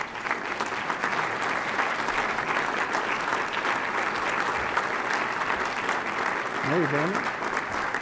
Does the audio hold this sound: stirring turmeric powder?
no